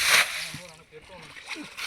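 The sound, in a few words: water being splashed at a lake while fishing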